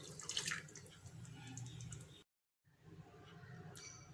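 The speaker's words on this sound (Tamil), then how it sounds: "நான் கொஞ்சமாக தண்ணி சேர்த்திக்கிறேன்." Water is poured into thick sambar, dal-based South Indian lentil stew, cooking in a pot, a soft close liquid splashing and trickling sound, brief and quiet, cut by a short gap of silence.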